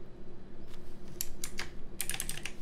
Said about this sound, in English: and then type in your response.